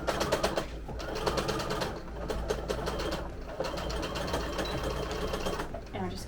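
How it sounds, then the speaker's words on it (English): A sewing machine back stitches over a plush toy's snout seam, running in a dense, steady rapid rhythm with brief slowdowns, close and fairly loud throughout. "we're just gonna back stitch over that again to make sure it's secure"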